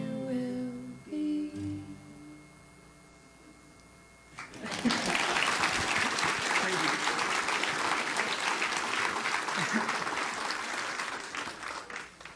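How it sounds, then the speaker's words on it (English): An audience breaks into loud, sustained applause partway through a song at a singing competition, following a quieter stretch of music and voices, with the clapping continuing steadily to the end. "They're clapping there in the middle of it."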